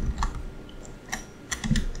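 Code is typed on a computer keyboard while building first-person movement in Unity. Close key clicks arrive in short bursts with brief pauses between them, and there is no talk.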